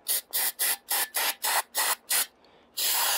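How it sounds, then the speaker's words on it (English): Cleaner sprayed into the magazine well of a tactical rifle's lower receiver: eight short, sharp aerosol bursts in quick rhythm, then a brief pause and one longer hiss, all close and loud. "give the magazine well a little spray"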